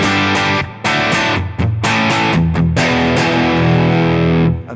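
Distorted electric guitar runs through a Soldano amp model on an HX Stomp, played alone as loud, chunky chords and sustained riffs with short stops between phrases.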